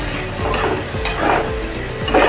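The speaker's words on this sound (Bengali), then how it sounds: "এইভাবে করে আমি মশলাটাকে 2 মিনিট মতো কষিয়ে নেব।" Masala spices and sliced tomato fry in a pan for egg biryani, a steady sizzle with a few scrapes and stirring knocks of a spoon against the pan, close up and with no talking.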